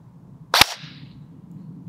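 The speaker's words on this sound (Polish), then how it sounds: "pierwszy strzał to chyba były jakieś dwie kulki albo coś" A single sharp shot from a WELL WE01A ARP 9 airsoft replica, a crisp close pop with a short fading tail, alone over quiet room noise.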